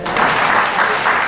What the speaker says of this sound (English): Now you can clap right there.